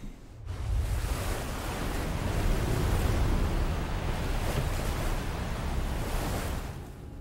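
Open-water ocean waves in Death Stranding, a broad steady roar of surf that swells in after a quiet moment and holds loud and continuous, with no talking.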